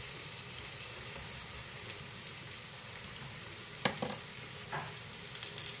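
Okra fritters sizzle in coconut oil in a frying pan, a steady close hiss with a few sharp pops and scraping stirs breaking through near the end.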